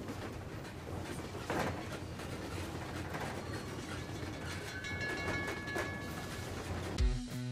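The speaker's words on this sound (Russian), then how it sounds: "Вот такой вот поезд из двух вагонов" A two-car local train rolls past with a steady rumble and rhythmic clickety-clack of wheels over rail joints, ending in a sharp metallic clank near the close.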